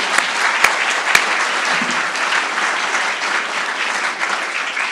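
An audience at a university's fall convocation ceremony applauds in a sustained, dense burst of clapping that stays loud and even throughout, with a few sharper claps standing out near the start.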